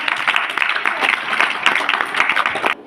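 Loud applause from children and adults at a religious gathering where prasad is offered, a dense burst of many hands clapping that runs steadily and then stops abruptly near the end.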